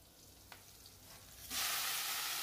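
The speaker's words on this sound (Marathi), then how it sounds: "थोडेसे जिरे टाकायचे आणि थोडासा हिंग टाकायचा आणि हा परतून घ्यायचा कांदा" Onion with cumin seeds and asafoetida frying in a pan: near-quiet at first with a faint tap, then a loud, steady sizzle bursts in and holds to the end, with no talking.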